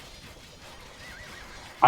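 In a video game, a horse whinnies in a short wavering call that rises faintly over quiet background clatter, followed by a sudden louder burst at the very end.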